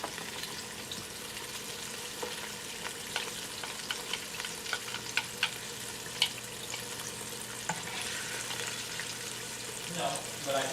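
Breading for a KFC-style famous bowl fries in hot oil with a steady, dense sizzle and scattered sharp pops and crackles that persist throughout.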